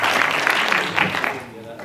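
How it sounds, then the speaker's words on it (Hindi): Applause from an audience at a mushaira welcomes a woman poet, a burst of clapping that fades quickly under an announcer's voice at the end. "उनका इस्तकबाल कीजिए तालियों की गूंज में।"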